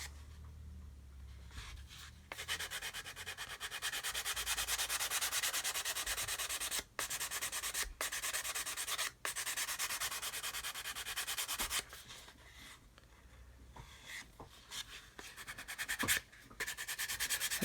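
A pet chews hard on a brand-new chew toy close by, making continuous rough scraping and gnawing sounds with short pauses. It is fairly loud and sounds alone, with no talking.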